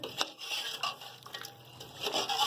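Spices for chicken biryani are stirred and mixed in a pot, giving soft scraping and rubbing strokes of a spoon with light metallic taps, close and fairly quiet, with no talking.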